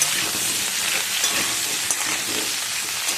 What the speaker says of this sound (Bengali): সামান্য হলুদ দেবো, দিয়ে আমি ভেজে নেব।